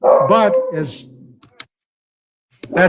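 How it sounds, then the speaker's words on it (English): A dog barks and yips indoors close to the microphone, a couple of loud bursts at the start followed by a pause, faint clicks, and another short bark at the end, with a brief word spoken. "that's my dog. Knock it off."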